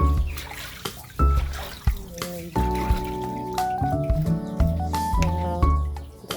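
Water drains out of a tank of hito catfish fingerlings through a screened drain, trickling and dripping with bubbly, gurgling tones, fairly close and uneven in rhythm, while someone talks briefly over it.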